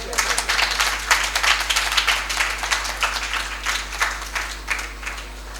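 A crowd of children and adults claps at a Jain temple's moral education camp closing ceremony, a lively burst of applause that stays full for several seconds and tapers slightly near the end.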